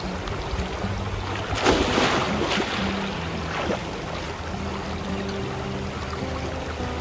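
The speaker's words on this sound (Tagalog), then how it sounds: "malinis na ilog" A clean river flows steadily at a riverside campsite in Zambales, giving a continuous broadband wash of running water that stays even and fairly close throughout, with no voices.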